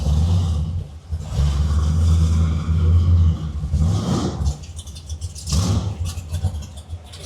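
A 1988 Oldsmobile Cutlass with a big block engine rumbles loudly close by, swelling through a couple of throaty revs over a steady deep idle, with no talking.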